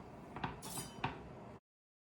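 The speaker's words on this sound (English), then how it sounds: "So I'm gonna go ahead and start by chopping my potato." A knife chops potatoes on a cutting board in a home kitchen while preparing sheet-pan roasted vegetables, giving two quiet, sharp taps about half a second apart over faint room noise.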